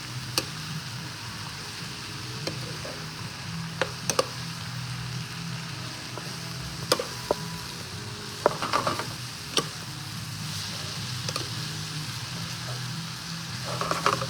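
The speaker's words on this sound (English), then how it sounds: "So you gotta let this simmer." Eggplant caponata simmering in a pan, a low steady bubbling under scattered sharp ticks and light clinks, moderately close with no talk.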